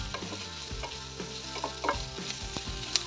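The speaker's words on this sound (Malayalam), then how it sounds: "ജസ്റ്റ് ഒന്ന് വഴറ്റിയെടുത്താൽ മാത്രം മതിയാകും" Onions being sautéed in a pan for egg curry, a steady sizzle with repeated scraping stirs and faint clinks, close and fairly loud, no talk.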